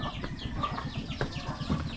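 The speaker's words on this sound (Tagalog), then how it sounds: "Meron palang manok dun." Chickens on a backyard Filipino poultry setup cluck and chatter in quick overlapping bursts, close by, with faint rustling and wing movement around them.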